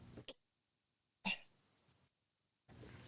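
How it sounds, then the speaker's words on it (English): A single short, sharp cough bursts out close to the microphone in near silence, framed by brief bits of nearby voice before and after. "Oh, got a cough."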